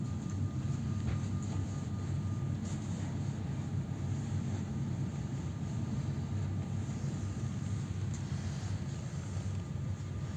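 Inside a double-deck Swiss train at Baden station, heard from the upper level, a steady low rumble and hum carries on evenly throughout with no talking.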